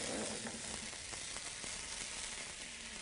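Bourbon barrel Worcestershire sauce sizzles in a hot pan with Gulf shrimp, a steady, dense hiss with faint crackles and pops, close and even throughout with no talking.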